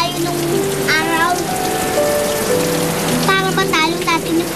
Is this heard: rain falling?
yes